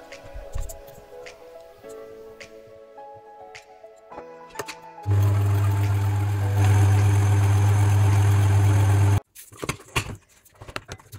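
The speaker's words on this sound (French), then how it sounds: "on va laisser le robot tourner pendant 12 minutes à vitesse moyenne" A stand mixer kneads brioche dough at medium speed, giving a loud, steady low motor drone for about four seconds mid-clip. Quieter clicks and tones come before it, and a burst of clatter follows.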